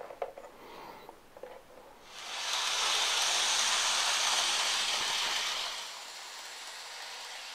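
A Kato N-scale ATSF Bluebonnet model train runs on its track, starting with faint clicks before a soft, steady whirring hiss swells in, holds for several seconds and then eases off to a quieter hum.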